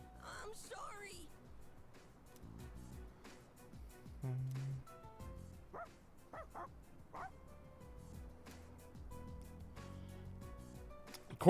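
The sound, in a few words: dogs barking in the video game Persona 3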